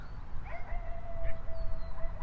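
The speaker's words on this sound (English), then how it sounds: "Somebody howling over there, but there's a lot of coyotes here." Coyotes howl in the distance with thin, wavering high-pitched cries and yips drifting over a low, rumbling outdoor background, faint and far off.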